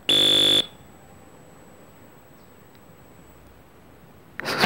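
A loud electronic beep from the video game World Cup Carnival (México '86) sounds once at the start, then near silence with faint background hiss, and another beep begins at the very end.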